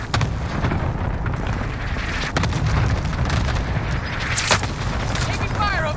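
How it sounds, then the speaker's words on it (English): Cluster strike explosions in the Warzone shooter game, a dense, continuous rumble of overlapping booms rolling on through the whole stretch, with a brief sharper burst late on. "Allied cluster strike inbound"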